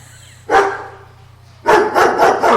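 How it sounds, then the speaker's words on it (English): A dog-barking sound effect plays loudly and close, with one sharp bark, a short pause, then a quick rapid series of barks over a faint steady hum. "So the people could be hearing dogs barking."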